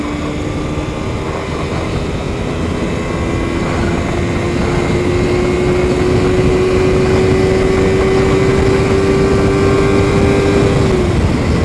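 A Kawasaki Ninja 250FI motorcycle is ridden along with a constant loud engine drone and heavy rushing wind noise, its engine tone holding steady, then easing slowly upward before dropping off near the end.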